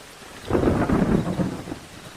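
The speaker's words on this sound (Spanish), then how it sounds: "Es una noche oscura y llueve mucho." Heavy rain pouring on a dark night with a low rumble of thunder swelling and fading, a dense wash of noise with no voices.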